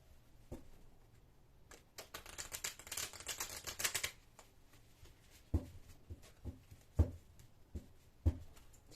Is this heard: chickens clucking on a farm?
no